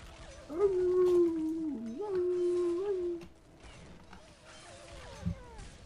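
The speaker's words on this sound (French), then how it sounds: "T'entends le bruit des chiens?" In Counter-Strike Nexon Zombies, a dog lets out a long wavering howl lasting a few seconds, followed by quieter mechanical creaks and scattered game noises.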